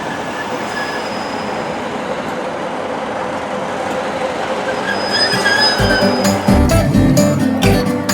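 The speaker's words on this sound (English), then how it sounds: "we are leaving Pollokshaws West on the 1056 ScotRail service to Thornaby" A ScotRail train pulls out of Pollokshaws West station, a steady rolling rumble building gradually, then sharp wheel squeals and rhythmic clicking and clanking over the rails growing louder and closer near the end.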